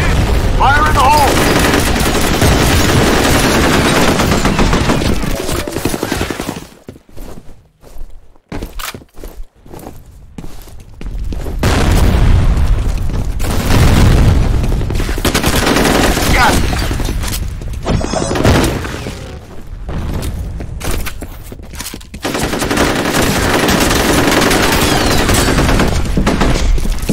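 Video game F.E.A.R. Combat with a grenade explosion and bursts of automatic gunfire, loud clattering volleys broken by a quieter stretch, booms and thuds, with brief voices in between.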